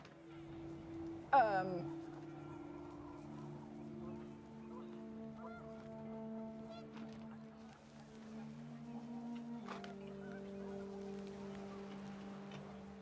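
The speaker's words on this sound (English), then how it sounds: "The wind picked up, and panicked geese appeared and quickly went" Panicked geese honk in What Remains of Edith Finch, one sharp burst of calls near the start over a steady backdrop of game music and ambience.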